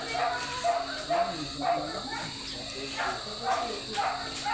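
A dog barks repeatedly, six or seven short, fairly evenly spaced yaps at moderate distance, over a steady high insect-like drone and faint background noise.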